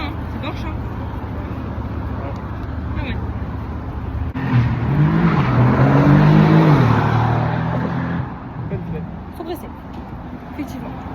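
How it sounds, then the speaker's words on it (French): A Porsche drives past on a street in Seoul, its engine note swelling loudly as it approaches and fading as it moves away, over steady traffic background and nearby talk. "La petite Porsche."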